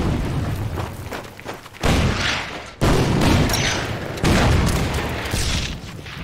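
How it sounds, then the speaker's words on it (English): Heavy artillery booms in the WWII strategy game Order of Battle: three or four deep, loud blasts spaced a second or so apart, each followed by a rumbling decay, with no talk over them. "Keep working on that artillery piece."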